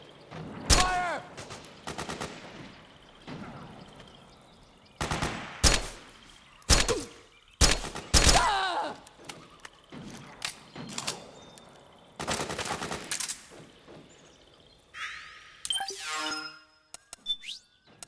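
Gunfire in Metal Gear Solid 4 comes as sharp, loud bursts and rapid volleys, separated by short quiet gaps, with brief electronic chirps near the end.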